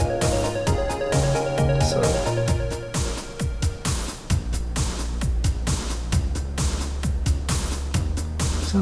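A new music track still in progress, with punchy 80s-style electronic drums beating a steady rhythm under synth chords and a bass line, loud and close, with a single spoken word at the start.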